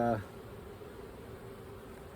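Honeybees hum around an open hive during an urban backyard inspection, a steady, unbroken drone of many wings filling the whole stretch at moderate level, with a brief bit of voice clipped at the very start.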